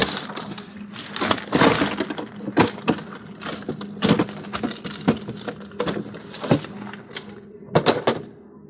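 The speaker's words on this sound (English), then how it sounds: "So what we'll do now is remove the ice bucket." An ice bucket lifted out of a Whirlpool refrigerator's icemaker, with loose ice rattling and crunching in irregular bursts of clatter, close and fairly loud.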